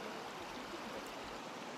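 Adatara River in Motomiya flowing steadily, a continuous broadband rush of water with no voices, moderately close and even throughout the short stretch.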